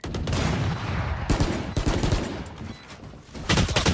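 Gunfire in the video game Valorant during a spike-planted round, dense bursts of automatic fire with sharp cracks that keep going for the whole four seconds.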